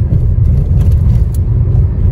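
Cabin sound from a Maruti Brezza car being driven up a mountain road toward Shimla, a loud, continuous low rumble of engine and road noise with no talking.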